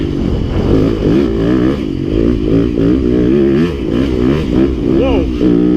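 A Yamaha YZ250FX 250 dirt bike engine revs up and down close by, loud and rising repeatedly through the gears, with a voice talking over it.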